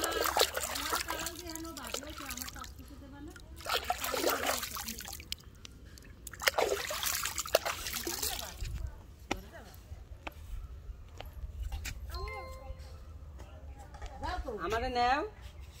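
Water trickling and splashing in bursts as someone's face is washed outdoors, with intermittent dribbles and splatters close by and people talking throughout.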